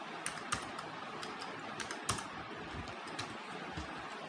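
Steady, fairly faint typing on a computer keyboard while Java code is entered, irregular light key clicks with a few sharper, louder strokes, close up and with no voices.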